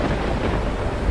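A storm sound effect of rolling thunder and blustery wind forms a loud, continuous roar that fills the entire short stretch without any voices.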